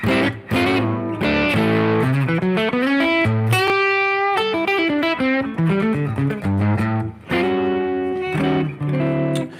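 Electric guitar playing a melodic line of notes and chords, drenched in reverb so each note rings and blurs into the next, steady and fairly loud.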